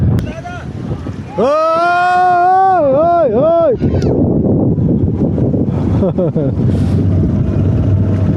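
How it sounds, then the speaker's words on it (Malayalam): A boat approaches at Manapad beach in Tuticorin: a loud, wavering tonal blast is followed by a steady engine rumble, with heavy wind buffeting the microphone and people talking nearby. "ഇതാ അടുത്തൊരു ബോട്ട് വരിക"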